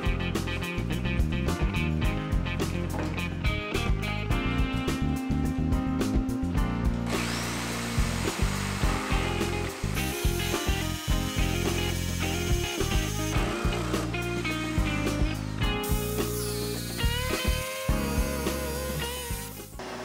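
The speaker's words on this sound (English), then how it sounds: "I'll then connect those lines and then cut them out with my jigsaw." Jigsaw cutting wood for a homemade crate, a loud close blade buzz with rapid reciprocating chatter, running in bursts with brief pauses and pitch shifts as the cut moves along the line.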